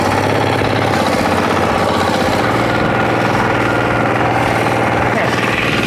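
A mini four-wheel tractor engine runs loud and close on hard ground, a steady throbbing idle with a rapid knocking chug that never lets up.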